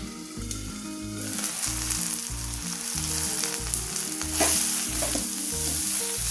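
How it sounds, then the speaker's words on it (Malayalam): Tomato sautés in a pan for an egg curry with coconut milk, a close, steady sizzle with stirring scrapes over a low, pulsing hum from the stove, no voices. "തക്കാളി നന്നായിട്ടൊന്ന് വഴന്ന് വന്നിട്ടുണ്ട്."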